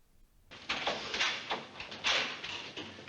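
A door being locked in the 1957 film 12 Angry Men: a hollow clack, then a series of scraping, rattling mechanical knocks over about two and a half seconds, fairly close and with no talk.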